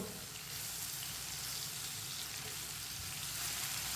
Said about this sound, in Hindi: 1 मिनट के लिए पका लेंगे मसालों को